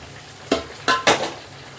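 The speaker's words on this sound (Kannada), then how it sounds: "ಕಾಯಿಪಲ್ಲೆ ಎಲ್ಲ ಚಲೋ ಎಣ್ಣೆ ಫ್ರೈ ಆಗೈತಿ" Vegetables frying in oil for veg biryani, a faint background sizzle broken by three short, sharp scrapes or clinks of stirring in the pan.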